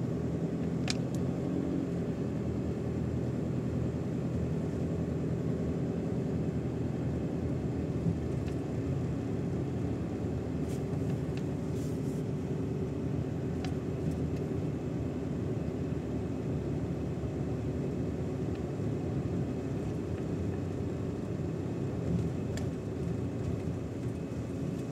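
A car creeps along slowly during a first driving lesson, its engine and road noise forming a steady, low, continuous rumble from inside the cabin with no obvious changes throughout.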